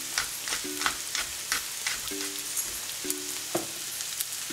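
Mushrooms seasoned with salt, garlic powder, black pepper and barbecue sauce are stirred in a frying pan, with a steady sizzle and repeated scraping strokes at an even rhythm, close and moderately loud with no talking.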